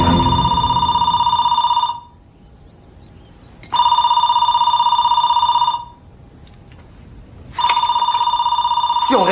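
A telephone rings in three long, loud electronic bursts separated by pauses of about two seconds, close and clear with little else around it.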